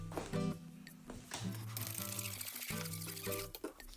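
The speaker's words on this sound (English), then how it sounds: "After getting the rotor properly wet and applying the dish soap" Water poured over a big brake kit rotor for an E46 BMW M3 to wash off rust inhibitor, a short close splashing pour lasting a few seconds with no talk.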